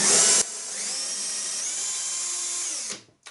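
A power drill bores holes while an A1UP arcade cabinet is being modified: a brief loud burst, then a steady high motor whine that holds for over two seconds before spinning down and cutting off, close by.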